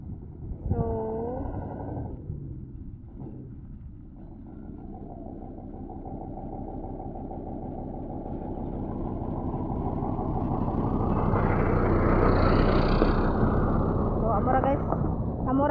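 A truck engine rumbles past, swelling from a low steady drone to a louder, closer roar before easing off, with brief voices near the start.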